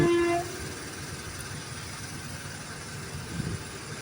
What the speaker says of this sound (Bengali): আরেকটা ট্রেন চলে এলো, আর আমাদের ট্রেনটাও চলে এসছে